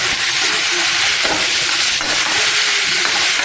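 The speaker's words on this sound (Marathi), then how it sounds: "आता टमाटा भाजायचा चालू आहे." Tomatoes roast in a pan for a Maharashtrian tomato and chilli thecha, a steady loud sizzle and hiss running throughout with a few faint stirring knocks, no talking.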